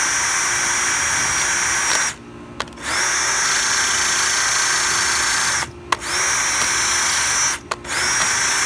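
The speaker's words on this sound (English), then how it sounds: "Let's go ahead and drill" A power drill whines loudly and close by in long steady runs, drilling holes through a laptop hard drive, cutting out briefly three times before spinning back up.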